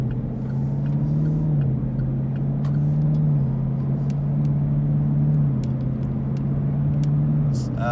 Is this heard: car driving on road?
yes